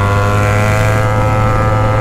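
A BMW 1200 motorcycle engine idles without revving, a loud, close, steady low drone with a constant throbbing hum and no talk over it.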